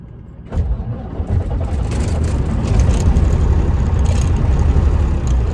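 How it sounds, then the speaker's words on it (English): An International Eagle truck with a rebuilt Cummins 444 diesel cranks and fires up close by, then settles into a loud, steady rumbling idle. "So let's see if Frank will fire up here"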